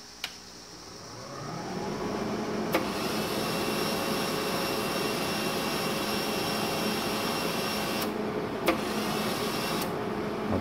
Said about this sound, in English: I'm going to turn the welder on now.